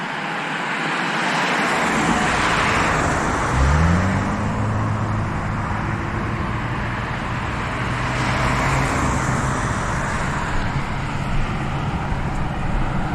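Steady road traffic roar on a Dallas street, a continuous broadband wash of passing cars with one vehicle's engine drone rising and then holding for several seconds, heard from the roadside without talk.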